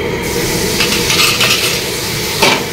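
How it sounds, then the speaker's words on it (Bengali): Garlic paste sizzles in nearly hot oil while it is stirred, a loud close hiss with scraping utensil strokes against the pan and no voices. "তেল গরম প্রায় হয়ে যাচ্ছে। রসুন বাটাটা দিয়ে নিলাম।"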